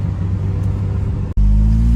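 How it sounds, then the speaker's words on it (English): Audi RS3 with a DIY Stage 2 setup revving hard under full acceleration toward redline, a loud, steady engine drone that briefly cuts out near the end before surging back even stronger with a deeper, rising tone. "Just red line straight to 60 miles an hour"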